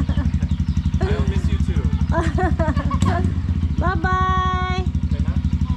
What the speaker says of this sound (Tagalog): My motor is still the Suzuki SkyDrive.